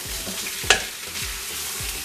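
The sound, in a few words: spice masalas added and stirred into frying goat paya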